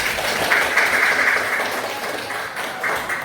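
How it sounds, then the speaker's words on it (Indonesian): Applause from a school classroom of students, a steady dense patter of clapping that holds for a few seconds at close range with no talk over it. "Beri aplaus ya teman-teman."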